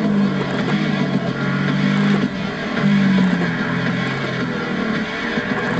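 A Nissan GT-R supercar engine pulls hard under acceleration, a loud, steady roar with a surging pitch that rises and falls in a few waves and carries over a continuous hum.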